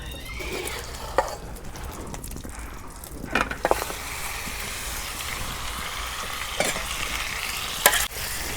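Beef frying in mustard oil without onions, a steady close sizzle running throughout while a spatula stirs, with a handful of sharper scrapes and clatters against the pot.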